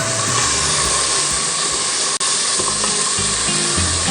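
Onion, garlic, tomato and ginger sizzle loudly in a hot pan, a dense, continuous frying hiss with a brief dropout midway.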